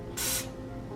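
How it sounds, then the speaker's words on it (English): A short, loud burst of hissing pressure-washer water spray cuts in and stops after about a quarter second over a low steady hum. "I finally got a chance to try the power wash, and do you hear that?"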